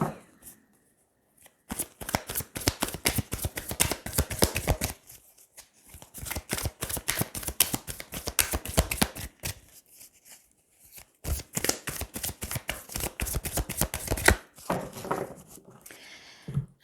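A deck of tarot cards is shuffled and cut close up, with long bursts of rapid riffling flutter broken by short pauses and a final softer shuffle.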